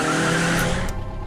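A car engine drones steadily at close range, a continuous motor hum that carries through the short stretch without any talk.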